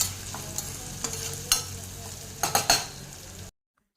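A spoon stirs turmeric into a frying base for ivy gourd curry, a steady sizzle underneath with several sharp scrapes and clinks of metal against the pan, clustered near the end before sudden silence.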